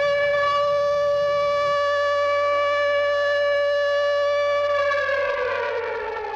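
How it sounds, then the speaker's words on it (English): A civil defense rocket warning siren in Israel wails loud and steady for several seconds, holding one rich tone before beginning to slide downward at the end, with no voices. "many Israelis were forced to run to shelter regularly as rocket sirens sounded throughout the country on a regular basis."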